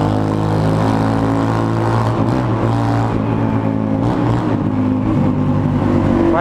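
A Yamaha Fazer 250 motorcycle with a straight-pipe exhaust roars loud and close, a steady, harsh engine drone with rising revs and no voices over it.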